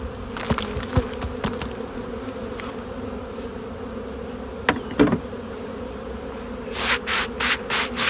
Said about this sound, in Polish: ja strząsnę te pszczoły tutaj sobie przed ul.